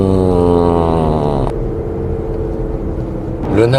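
A Land Rover Discovery 4 cruising at about 50 km/h with newly fitted domestic front tyres gives off a loud, steady droning hum with tonal layers, which breaks off midway and then swells back near the end.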